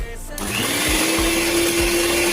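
An electric beater whirs steadily through eggs, sugar and vanilla essence for a sponge cake, a close continuous motor drone that starts after a brief quieter moment, with no clear talk over it.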